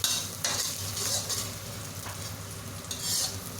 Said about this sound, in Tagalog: Saute it gently guys. Para yung ating prawn ay mabango.